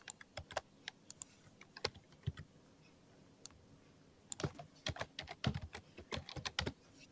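Computer keyboard typed on while writing Java code, a quiet run of sharp irregular key clicks, sparse at first then a faster denser burst near the end, close up and with no talking.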